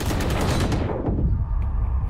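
Rapid gunfire in the video game Valorant rattles as a loud, dense burst of shots that cuts off partway through, leaving a quieter game background with a faint click.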